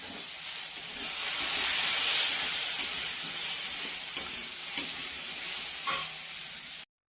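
Spices sizzle and hiss in a pan while being stirred for a sour-sweet-spicy pickle, a steady frying rush with a few soft scraping knocks, close and continuous before cutting off abruptly.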